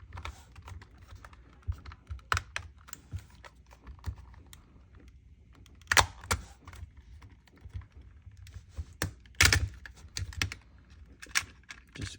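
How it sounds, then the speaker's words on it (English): Someone pries apart the plastic shell of a PS4 DualShock controller, giving a sparse series of small clicks, creaks and sharp snaps, quiet and close, with louder pops as the clips release. "we're going to gently peel this controller apart"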